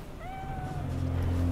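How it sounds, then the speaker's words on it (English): A cat meows once in a long rising-and-falling call inside Cyberpunk 2077, clear and close over a low hum that steadily swells beneath it. "Cat?"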